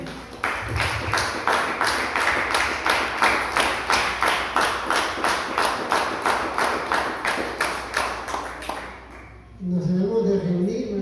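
A church congregation claps in steady rhythmic unison for about nine seconds, loud and close, then stops as a voice begins speaking.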